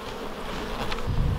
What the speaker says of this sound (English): Oh, this hive's starting to come out now.